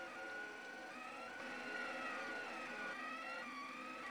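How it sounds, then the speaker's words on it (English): An Anycubic Kossel delta 3D printer printing filament spool mounts, its stepper motors whining in shifting, warbling tones as the printhead darts around, steady and fairly quiet with no talk. "Here I am printing mounts to get the filament spool on top of the printer."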